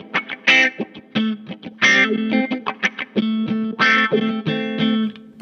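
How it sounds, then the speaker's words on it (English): Bass played through a wah/fuzz/filter pedal on its wah setting with Q and level turned fully up, giving a choppy run of vocal-like, sweeping notes with quacking bursts, loud and close with no speech. "this is the wah setting with the Q all the way up and the level all the way up"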